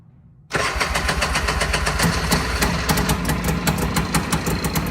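A 1990 Honda Pilot engine catches abruptly after a brief quiet moment, then settles into a loud, steady idle with a fast, rhythmic chug, heard up close.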